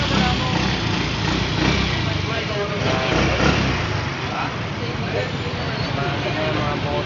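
An engine runs continuously after its fuel pump is repaired, a loud, steady, buzzing drone with slight fluctuations under nearby speech.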